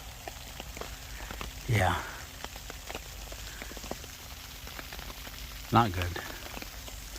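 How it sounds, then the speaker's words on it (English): Steady rain patters on a hammock tarp during a cold-weather overnight in snowy, icy mountains, a dense continuous hiss of drops with two brief spoken remarks breaking through. "It's a steady, steady, steady rain."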